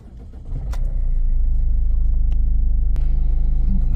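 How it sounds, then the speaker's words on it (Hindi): A Ford Figo Freestyle diesel engine cranks and starts after a major service, catching within a second and settling into a steady, loud, close idle with a low rhythmic rumble. "गाड़ी को करते हैं स्टार्ट।"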